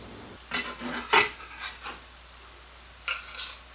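A blood pancake flipped in a pan: a few scraping, clinking strokes of a utensil against the pan, close and moderately loud, in short bursts with quiet gaps.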